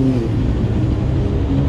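A motorcycle engine runs close by with a steady, loud low rumble and a slight rise in pitch, filling the whole moment without pause.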